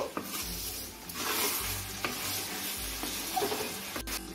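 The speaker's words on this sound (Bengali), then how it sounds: "চিনিটা গলে যাওয়া অবধি নেড়ে নেব।" Vegetables stirred with sugar and salt in a frying pan for fried rice, a constant sizzle broken by repeated scraping strokes of the spatula, close and steady.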